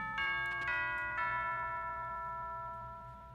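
A chiming doorbell in the Pokémon Sun video game, a bright ding-dong melody of clear sustained tones struck twice and left to ring and fade, with no voices.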